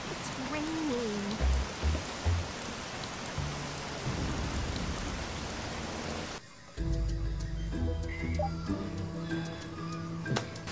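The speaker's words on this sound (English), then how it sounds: "Oh, it's raining." Dense, steady rain with rumbling thunder from The Bee Movie Game fills the first part, then cuts to quieter game sounds, with a voice talking over it.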